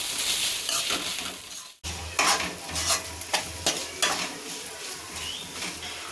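Ginger and garlic frying in a pan over low flame, with a soft continuous sizzle under repeated scraping strokes of a spoon stirring against the pan, close and fairly quiet.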